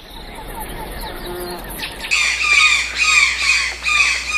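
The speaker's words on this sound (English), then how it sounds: "This is the scarlet macaw." Scarlet macaw in the Amazon jungle giving repeated loud, harsh squawks from about the midpoint onward, close and dominant, after a stretch of quieter jungle ambience with insect and bird calls.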